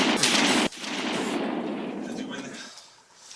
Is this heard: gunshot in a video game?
yes